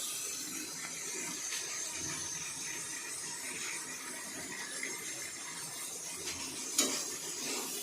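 Bitter gourd going into an onion-tomato masala with dal in hot oil gives a faint, steady sizzle with soft scraping and stirring, quiet and close, topped by one sharper clink near the end.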